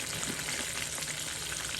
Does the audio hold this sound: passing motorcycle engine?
no